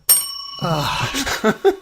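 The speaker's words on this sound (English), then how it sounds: "I'm putting the bell away. I get one ring a day." A bell rings once in a radio studio with a bright, sustained tone that lingers as voices talk over it.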